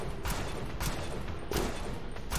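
Rapid gunfire from a video game shooter, with several dense bursts of shots over steady loud background noise, close and continuous, with no talking.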